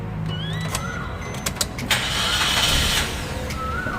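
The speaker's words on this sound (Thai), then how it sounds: "เรามาฟังเสียงสตาร์ทรถกันนะครับ" A 2016 Suzuki Ertiga 1.4 GL automatic engine cranks and catches, settling into a quiet idle, with a few sharp clicks and brief whines around it.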